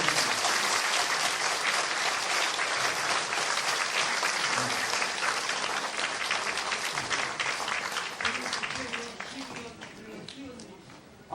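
Sustained audience applause at an inauguration and farewell ceremony, dense and steady throughout, tapering slightly near the end, with some talk mixed in underneath.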